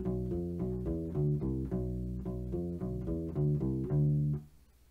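A U-bass plays a Locrian groove, a steady rhythmic line of about a dozen plucked low notes with a rubbery, round tone, close and unaccompanied, ending on a held note that fades out.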